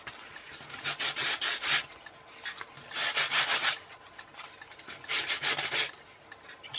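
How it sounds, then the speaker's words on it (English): Sandpaper rubbed along the rough edge of a piece of wood, three distinct bursts of rapid back-and-forth rasping strokes, close and moderately loud with no speech. "Might just run a bit of sandpaper up there first though"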